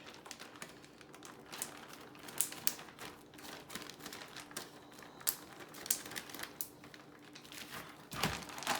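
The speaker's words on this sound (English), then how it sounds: "the next thing you're going to want to do is seal up your bag" A plastic bag holding bacon in brine is pressed and sealed shut, making quiet, close, rapid crinkly clicks and rustles that patter on irregularly throughout.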